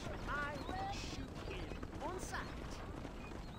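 Horse hooves clip-clop at a steady pace in the Red Dead Redemption western video game, faint beneath a quiet mix of game sounds and chirpy tones.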